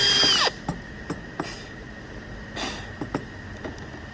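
A power drill bores out nails from salvaged lumber, starting with a loud high whine that cuts off, followed by scattered knocks, clicks and scraping of metal and wood, with no talk.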